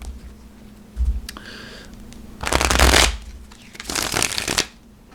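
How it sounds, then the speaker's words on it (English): Thick-cardstock tarot cards are shuffled in two quick riffling bursts, with a few soft taps and clicks in between. "But it does shuffle pretty well."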